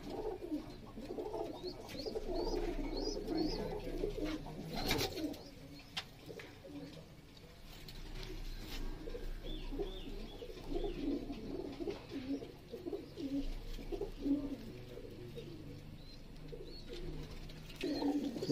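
Pigeons cooing in a home breeding setup, repeated soft low coos and some chirps continuing throughout, fairly close but quiet, with occasional rustling and thumps.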